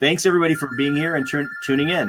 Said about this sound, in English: You can hear my phone going in the background.